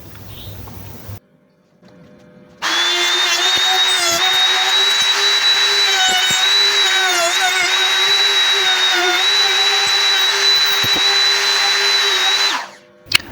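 A DCK KMR 8S power router cutting wood for a budget fold-down Murphy bed gives a loud, sustained high-pitched whine close by, steady for about ten seconds before spinning down, with no talking over it.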